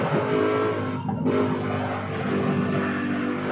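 A Corvette engine bogging down while racing in Gran Turismo 7 at Barcelona, a loud, continuous strained drone that dips briefly near the start and then holds steady.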